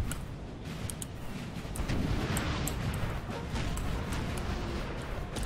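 Cannon fire in the Napoleonic Total War 3 video game, a dense, continuous battlefield roar of booming shots and rumbling blasts that carries steadily throughout.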